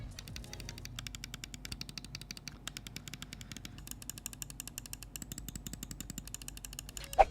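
Lightweight plastic gaming mouse switches click in fast, dense rapid-fire bursts, sharp and close, with brief pauses between runs of clicks and no talking.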